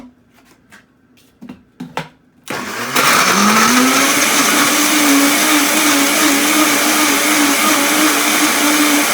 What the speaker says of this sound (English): And I am just going to blend this into a puree.